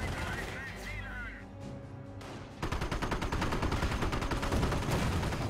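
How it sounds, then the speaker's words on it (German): Bombs and gunfire in the World War II strategy game Company of Heroes: after a stretch of rumbling and whistling, dense rapid gunfire and bursts take over, loud and continuous. "Bombe weg, Bombe weg, Bombe weg."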